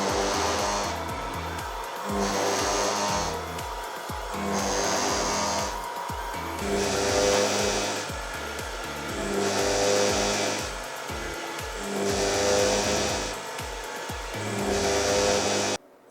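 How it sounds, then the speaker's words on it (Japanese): A CNC benchtop lathe mills a groove with a flat end mill. The machining noise swells and fades in an even cycle roughly every two seconds, a steady mechanical drone heard up close. "フラットエンドミルという工具を使ってこの爪の溝を加工していました"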